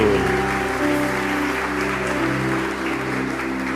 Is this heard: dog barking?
no